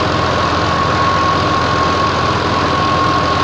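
An Alghazi 12 diesel tractor running a 60-blade rotavator runs at a steady, close idle, a continuous low rumble with a faint knocking texture throughout and no speech.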